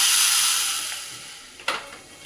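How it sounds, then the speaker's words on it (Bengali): Mustard seeds pour into a metal spice box with a steady, close, bright granular hiss that slowly fades, followed by a short rattling clatter near the end. "এবার সর্ষে ঢেলে দেবো"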